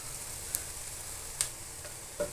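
Chili powder going into frying onions in a pan for a Dubai-style fish curry, giving a faint, steady sizzle with a few soft clicks of a spoon against the pan.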